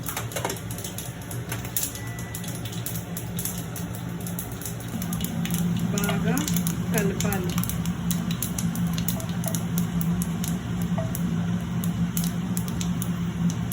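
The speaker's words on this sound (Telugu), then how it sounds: "కొద్దిగా జీలకర్ర, కొద్దిగా ఆవాలు, కొద్దిగా వాము వేసి బాగా కలపాలి" Cumin, mustard seeds and ajwain crackle and sizzle in hot oil for a beans masala curry, a dense steady frying hiss with small pops and scraping stirs, growing louder midway and continuing throughout.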